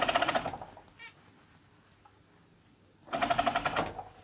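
An overlocker stitching ribbing onto a knit vest runs in two quick bursts of fast, steady motor whirring, close and fairly loud, with a quiet pause between them.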